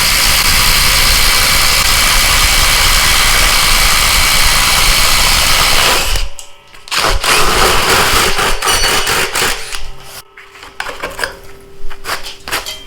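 A DeWalt XR DCF887 cordless impact driver drives a 4.5 by 1/2 inch lag bolt with a 3/4 inch impact socket: a loud, steady, dense whir for about six seconds, then choppy bursts of rattling impacts with short pauses.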